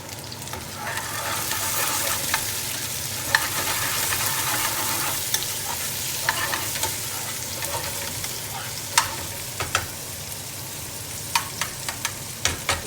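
Red and green peppers sizzling and frying in a hot pan for a chicken tikka chilli, a steady crackling hiss punctuated by scraping stirs and utensil clicks that grow more frequent toward the end.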